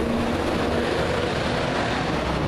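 Steady, dense roar of road traffic passing continuously nearby, a broad wash of engine and tyre noise with no talking.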